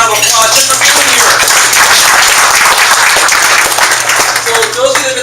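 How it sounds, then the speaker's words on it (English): An audience at a networking launch event in Modesto applauds loudly and continuously for several seconds, with a voice talking over the clapping. "Give yourselves a big round of applause just for being here."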